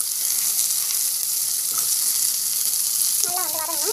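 Green chili and onion frying in hot oil in a kadai, a steady loud sizzle filling the clip, with a brief stirring scrape near the end.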